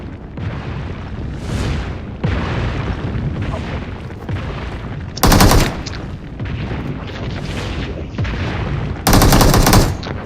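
Loud gunfire and booming blasts in a battle royale mobile game, with shotgun fire among them: dense continuous shooting throughout, punctuated by two sharp, very loud close bursts.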